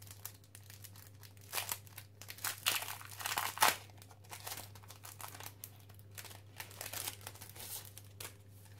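A new clear plastic stamp sheet is unwrapped by hand, giving off bursts of crinkling and tearing plastic, loudest around the middle, over a steady low hum with no talking.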